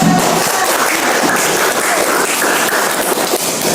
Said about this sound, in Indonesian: Kita beri tepuk dulu